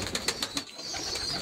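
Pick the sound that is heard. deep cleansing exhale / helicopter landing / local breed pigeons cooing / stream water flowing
local breed pigeons cooing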